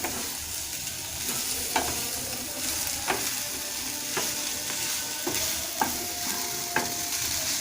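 A spatula stirs carrot and grated coconut in a pan, scraping in several distinct strokes roughly a second apart over a low, continuous cooking sizzle.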